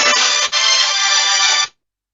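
A phone ringtone chirps loudly in one continuous electronic trill lasting under two seconds, with a brief dip partway through, then cuts to silence.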